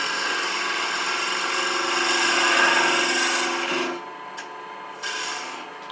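A turning gouge slices into spinning wood on a lathe while a one-piece baby rattle is shaped, giving a continuous close rasping cut that stops near the end, followed by brief lighter scraping touches.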